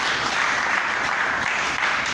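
A church congregation applauds God during a French-language sermon, a dense, steady wash of many hands clapping together, loud and continuous throughout with no break.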